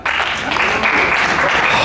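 Comedy club audience clapping in response to a stand-up comedian's call for couples married over 55 years, a dense, steady burst of applause filling the short moment without pause.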